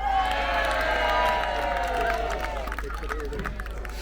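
A civic-week crowd outdoors cheers and claps, with whoops and shouting voices over a continuous bed of applause, loud and busy at first and thinning slightly toward the end.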